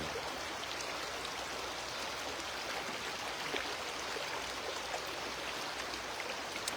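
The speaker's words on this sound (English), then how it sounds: "Just allowing the sound of the river to establish the flow." A river's continuous rushing water flows steadily with a soft, even hiss and faint trickles, quiet and unbroken throughout.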